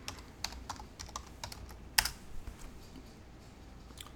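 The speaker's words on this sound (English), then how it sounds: "let's type in fitness" Typing on a computer keyboard during a search for fitness opportunities: a sparse, quiet patter of key taps with one sharper keystroke in the middle, then the clicks fade out into low room noise.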